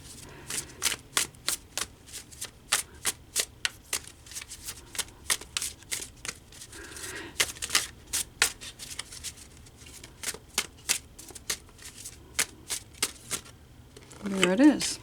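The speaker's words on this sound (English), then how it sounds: "pulling out another card for you." Tarot cards being shuffled and drawn, giving a long run of crisp rhythmic riffling snaps close up, with a soft voice heard at moments between the card sounds.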